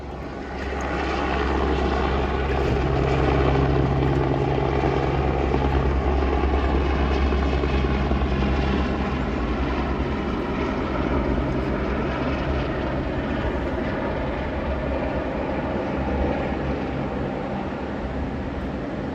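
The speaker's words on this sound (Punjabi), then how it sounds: "ਹੈਲੀਕਾਪਟਰ ਆ ਰਿਹਾ ਉਹ ਦਿਖਾਉਣੇ ਆ ਤੁਹਾਨੂੰ" A helicopter taking off from a helipad, its engine and rotors roaring continuously at a distance for the whole stretch, a steady heavy drone that swells slightly early on, no speech.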